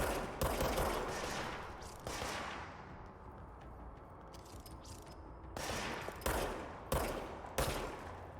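Enemy gunfire in the video game Control: several loud bursts of shots, with a quieter stretch in the middle before more sharp bursts return.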